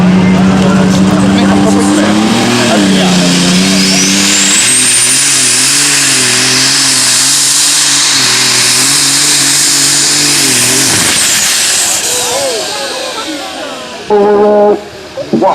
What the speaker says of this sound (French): Ce serait bien un des deux turbos qui a explosé.